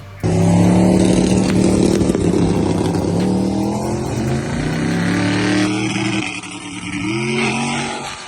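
A drag race car making a test pass at Bunker Hill Dragway, its engine erupting loudly and climbing through high revs, then shifting and easing off as it runs down the strip.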